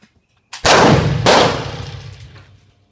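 Two loud, close 9mm pistol shots at an outdoor shooting range, about half a second apart, each a sharp crack with a ringing decay.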